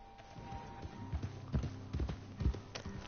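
Horses clip-clop around a player's camp in Red Dead Online, hooves striking in uneven clusters at close range over a low steady hum, with no talking.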